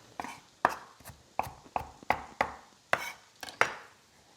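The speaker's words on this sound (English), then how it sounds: "So I'm going to chop it in half, chop it in quarter, and just kind of chop it up reasonably thinly." A knife chops fresh coriander thinly on a board, about ten crisp, evenly spaced strikes close by with no talking.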